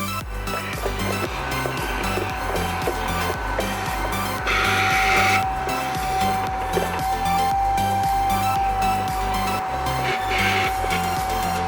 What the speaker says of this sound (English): Use a vacuum cleaner to remove all the dust out of the air filter's housing.